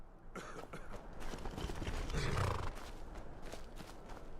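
A horse at a stable in the Skyrim video game gives a snorting, whinnying call amid game ambience, moderately near, with no talking.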